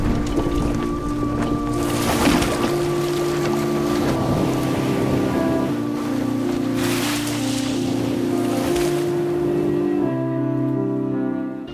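Sailboat under way on the open Pacific Ocean heading toward the Gilbert Islands of Kiribati, a steady wash of water and wind with surging swells and a low, constant hum beneath.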